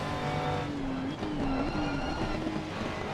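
A Ferrari Challenge field of race cars in Assetto Corsa Competizione launches from a standing start, with loud layered engines revving and rising in pitch together and faint tire squeal.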